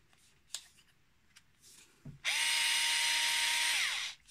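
A Xiaomi Mijia electric screwdriver spins up with a steady high whine for nearly two seconds, then winds down, preceded by a few light clicks and handling taps.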